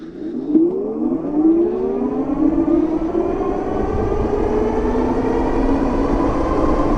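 An Ariel Rider X-Class moped-style ebike pulls away from a standstill at full throttle, its electric motor whine climbing steadily in pitch while a loud road and wind rush builds beneath it.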